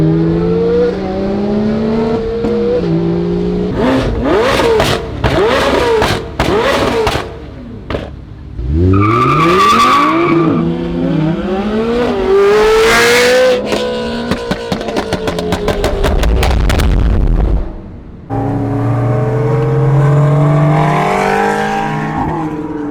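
A McLaren 650S supercar fitted with a 675LT-style center exit exhaust accelerates hard through repeated gear changes, its loud rising howl broken by shifts and crackles, with brief tire noise and other cars passing on the road.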